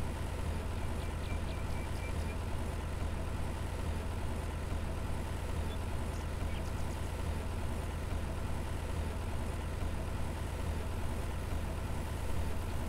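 A tractor engine runs steadily in Farmer's Dynasty as heard from the cab, a continuous low diesel drone with a faint hum layered over it, even in level and close throughout.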